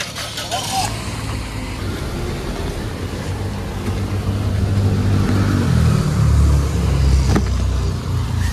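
Car engines idle and rev as three cars set off together in rainy weather for a hotel visit, a steady low rumble that swells louder toward the end, with people talking over it.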